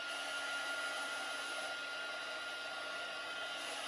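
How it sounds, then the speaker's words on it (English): A heat gun blows hot air to dry paint on a terra cotta pot, a steady, loud, close rushing roar that holds unchanged throughout with no talking. "I always have my heat gun handy to get me moving."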